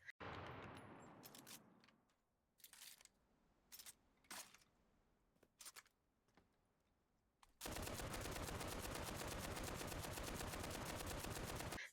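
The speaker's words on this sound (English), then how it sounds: "The Browning M1919A4." A Browning M1919A4 machine gun chambered in .30-06 fires in the video game Enlisted, first a few scattered bursts and single shots, then a loud, sustained rapid-fire stream that runs unbroken to the end.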